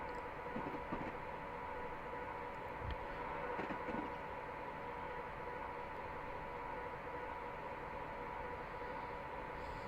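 A Class 89 electric locomotive in Train Simulator Classic cruises at about 95 mph between Carlisle and Glasgow Central, with a steady rolling rumble, a faint electrical hum and occasional soft rail clicks.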